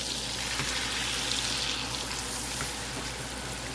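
Frozen bagged sweet corn and vegetables frying in melted butter, a steady broadband sizzle and crackle that holds level throughout with no talk.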